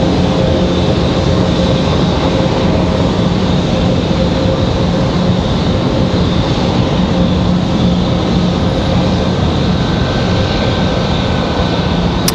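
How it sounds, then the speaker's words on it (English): An American Airlines Boeing 777 jet airliner at Raleigh-Durham International Airport roars steadily and loudly throughout, a continuous broadband engine rush with no break. "There's the American 777."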